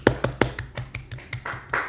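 One person clapping about a dozen times after a presentation, sharp close hand claps in a fairly quick, slightly uneven rhythm, with no other voices.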